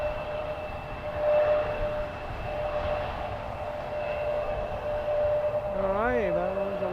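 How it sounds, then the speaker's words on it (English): An Alaska Airlines jet arriving from Seattle at Edmonton International Airport on an evening gives a sustained distant engine roar with steady whining tones. The roar swells and eases slightly as it goes, and a faint voice is heard near the end. "that was Alaska Airlines arriving from Seattle"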